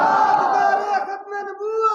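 A crowd at a religious gathering shouts slogans together in one loud, sustained group cry that fades slightly and then swells again.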